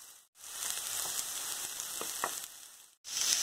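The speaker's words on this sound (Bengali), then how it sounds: "পেঁয়াজ লঙ্কাটা একটু লাল লাল করে ভাজতে হবে" Onion and green chili frying with garlic in hot oil give a steady, crackling sizzle heard close up, with a couple of faint stirring taps and brief drops in the noise.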